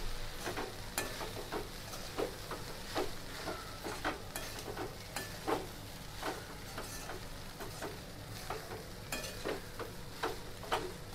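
Poha tossed and stirred in a frying pan with turmeric, salt and a little sugar, a steady scraping and rustling with soft sizzle and repeated sharp clinks of the spoon against the pan, close and fairly quiet.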